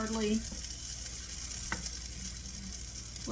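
Fried tater cakes sizzle steadily in a pan, a continuous loud crackling hiss with a faint scrape partway through.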